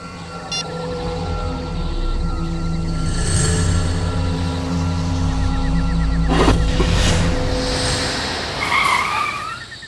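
A car sputters and strains with engine trouble, a loud steady mechanical drone with harsh bursts and a screeching skid-like flare partway through, continuous throughout.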